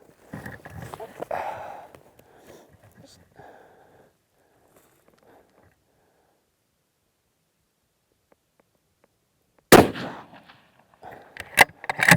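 A rifle fires during hunting range practice. A long stretch of near-silence follows some faint movement, then one loud, sharp report rings out close by, followed by a few quick clanks or clicks.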